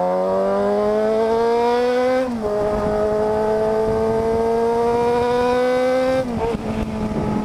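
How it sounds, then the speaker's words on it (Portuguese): A Yamaha XJ6 motorcycle with a straight-through exhaust revs hard past 7000 rpm, its loud, steady engine note climbing smoothly and briefly dipping twice between pulls, close to the microphone. "Olha que ele abre, chega nos 7 mil giros pra frente."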